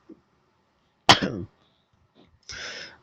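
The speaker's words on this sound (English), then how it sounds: "Sorry for coughing." A sharp cough bursts out close by, then a second rough, breathy cough-like exhale follows after a short pause.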